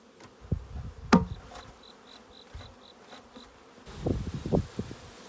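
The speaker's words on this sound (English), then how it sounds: "You can see about another third frame of bees here." Honey bees from a newly captured swarm buzz around an open hive frame, a faint, intermittent drone of individual bees passing near the microphone, with a few soft knocks and rustles in between.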